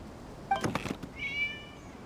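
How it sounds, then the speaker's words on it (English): A cat in the video game Genshin Impact meows a couple of times, then gives a higher drawn-out mew, fairly clear over a soft background hiss. "It was just a cat."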